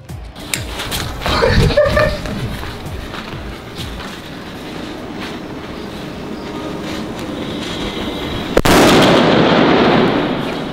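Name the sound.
foil-wrapped sutli firecracker exploding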